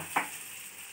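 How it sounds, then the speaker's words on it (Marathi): Boiled rice dumplings tossed into hot tempering in a pan, giving a steady loud sizzle with one quick sharp crackle as they drop in. "त्यामध्ये हे लोळे आणि मुटकं हे टाकू आणि छान त्याला टॉस करून घेऊ"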